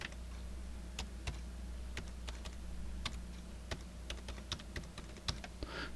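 Rapid, irregular keystrokes on a computer keyboard while a root password is entered during Linux distro setup, a quiet run of light clicks over a faint background hum.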